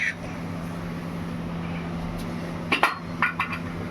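A metal lid is set onto a cooking pot in a home kitchen, giving a few short clinks and clatters near the end over a steady low background hum.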